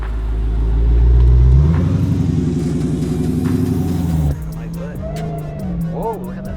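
A Dodge Demon 170 engine revs hard and accelerates, a loud, deep rumble that swells and holds for several seconds, then drops off abruptly as a voice exclaims over the fading engine.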